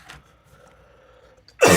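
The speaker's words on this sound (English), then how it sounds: "I had to clear my throat there for a second." A man clears his throat once near the end, a short, loud, raspy burst after a quiet stretch.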